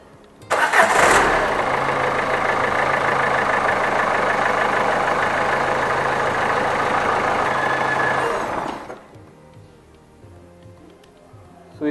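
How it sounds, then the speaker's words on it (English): A car engine cranks and catches just after a battery replacement, then runs loud and steady for about eight seconds before shutting off, leaving quiet. "Now just try to crank the engine and let's see like how much like the voltage going to dip."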